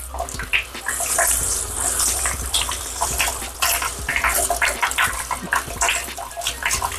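Water gushes and splashes steadily over a German Spitz being bathed, a loud continuous running flow with irregular splashy bursts close by.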